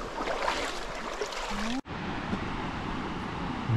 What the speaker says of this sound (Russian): Там внизу слышите, как шумит река? Прям как настоящая горная река.